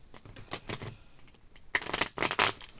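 Quick papery riffles and soft slaps of tarot cards being shuffled, two bursts separated by a brief lull, close and fairly quiet.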